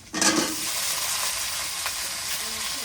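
Pointed gourd hitting hot oil in a pan with a sudden loud burst of sizzling that settles into a steady close frying hiss, a brief clatter at the start and no talk.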